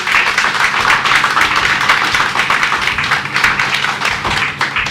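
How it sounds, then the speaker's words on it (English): School audience applauding students, a dense and loud sustained round of clapping from many hands that holds steady throughout. "they deserve a huge round of applause"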